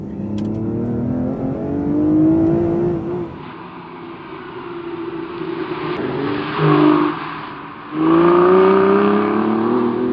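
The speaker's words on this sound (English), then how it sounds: "it sharpens up the throttle response and it makes the exhausts that much louder" An Aston Martin V12 Zagato's V12 engine and exhaust rev hard through the gears, loud and close, with throttle lifts between pulls and a final strong surge, no voices.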